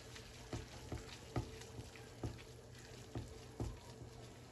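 Pansit noodles frying in a pan with sesame oil, a steady soft sizzle broken by several sharp stir-and-scrape hits spaced about a second apart, close and moderately quiet.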